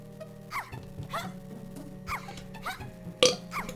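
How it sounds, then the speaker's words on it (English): Someone playing Donkey Kong 64 lets out a burp. Low game music plays underneath, a few small throaty bursts come first, and one sharp, louder burp stands out near the end. "Oh god, I just burped really good"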